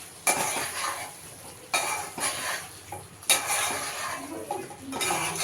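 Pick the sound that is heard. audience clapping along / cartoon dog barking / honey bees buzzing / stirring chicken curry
stirring chicken curry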